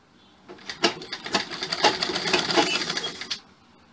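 A sewing machine stitches a blouse seam, a fast steady mechanical rattle starting abruptly, running for about three seconds at close range and then stopping, with no voices.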